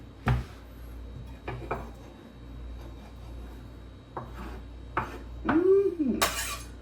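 Ingredients for a fresh marinara pasta sauce are dropped and shifted into a heavily filled pot, making close, sparse clanks and knocks of metal and utensils with a scraping rub near the end.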